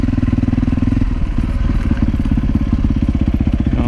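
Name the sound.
off-road dirt bike engine on single track trail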